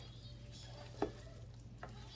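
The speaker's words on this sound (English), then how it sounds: "we're just going to mix this up" Dressing being stirred into potato salad in a bowl, a faint soft mixing sound with two small scraping clicks, no one talking.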